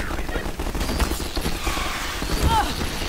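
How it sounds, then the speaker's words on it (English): Combine soldiers firing on a player in Half-Life 2, a dense, continuous crackle of gunfire and impacts filling the whole stretch at steady loudness, with chaotic game noise layered underneath. "There's a combine shooting at me."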